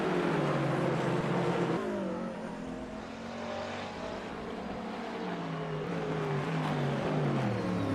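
A BMW GT3 race car engine in a sim racing game at Donington Park National, a steady droning whine that sags in pitch midway and then climbs again as the car accelerates, running alone without voices.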